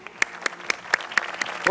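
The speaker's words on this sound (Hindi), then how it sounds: "तीनों टीम की तालियां होनी चाहिए, टीम सी के लिए भी" Studio audience applauding all three teams at a semifinal of a televised Ramzan quiz show, a steady clatter of clapping with sharp louder bursts recurring about every quarter second throughout.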